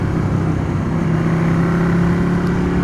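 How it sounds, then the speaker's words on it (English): Motorcycle engine droning steadily while riding on back streets, a loud, close, continuous low rumble with a steady tone and wind noise, no speech. "Super fun motorcycle."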